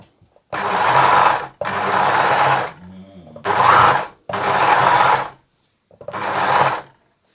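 An industrial blind hemming machine stitches fabric in four or five steady, loud motor bursts, with short pauses between runs and no talking.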